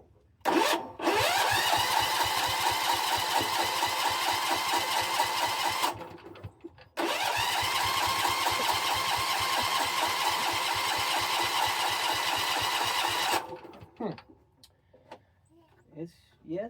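A Husqvarna riding mower engine cranks on its starter from a jump box, two long, even, whirring runs of about five and six seconds with a brief pause between, close and loud, with no firing. Quieter clicks follow.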